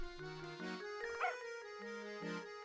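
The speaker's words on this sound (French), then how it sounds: "Vous avez vu, il y avait le toutou." A dog in a Professor Layton video game lets out several short, faint yips and whimpery barks over soft, continuous game music.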